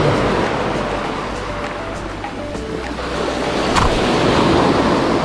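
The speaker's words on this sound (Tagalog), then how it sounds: "Medyo malakas ang alon ngayon" Ocean waves wash steadily onto the shore at Puerto Galera, Mindoro, Philippines, in a continuous broadband roar, swelling slightly louder toward the end, with no voices.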